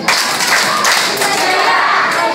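A group at a children's Nutrition Month party claps together in a short, loud, close burst of overlapping hand claps lasting a couple of seconds.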